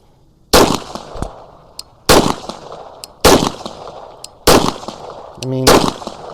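Five sharp, loud pistol shots crack out from a Timberwolf-frame handgun fitted with a muzzle device, irregularly spaced a second or so apart, each with a brief ringing decay.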